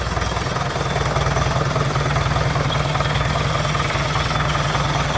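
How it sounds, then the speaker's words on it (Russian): A tractor engine idles steadily with a low, rhythmic chugging knock, close and loud, holding an even pace throughout. "Трактор."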